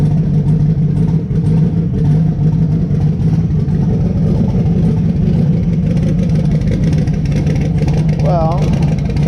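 A 6.0 LS twin-turbo engine runs with a loud, steady, deep rumble that stays fairly even throughout, with a brief rising whine near the end.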